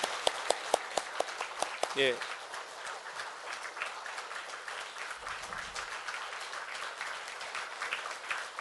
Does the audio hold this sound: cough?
no